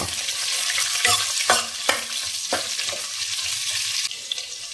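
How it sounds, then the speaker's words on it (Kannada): Chopped onion and garlic fry in a little oil in a pan, a continuous hissing sizzle broken by several sharp scrapes and knocks of a spoon stirring against the metal, close up and steady throughout. "ಸ್ವಲ್ಪ ಎಣ್ಣೆ ಜೊತೆನಲ್ಲಿ ಈರುಳ್ಳಿ ಮತ್ತೆ ಬೆಳ್ಳುಳ್ಳಿ ಎಲ್ಲ ಫ್ರೈ ಆಗಬೇಕು"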